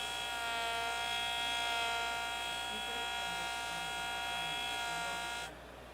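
A JOOLTOOL lap grinder cuts multiple bevels on a turquoise cabochon, giving a steady close electric whine with dense harmonics that holds for about five seconds, then cuts off abruptly near the end.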